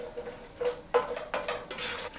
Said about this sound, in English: Once the oil is heated, we're going to add our garlic and ginger. And we're just gonna fry it